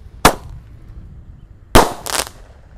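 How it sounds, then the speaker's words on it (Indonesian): A Raja Wali flying firecracker set off outdoors in the late afternoon, giving one sharp bang followed after a pause by two more quick bursts, loud and close. "Selanjutnya kita nyalakan mercon Raja Wali terbang guys"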